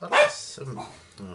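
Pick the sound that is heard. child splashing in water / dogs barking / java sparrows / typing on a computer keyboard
dogs barking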